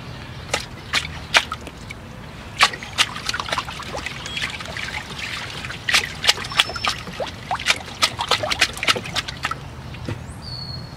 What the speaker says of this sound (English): We're just going to give it one final flush in the water.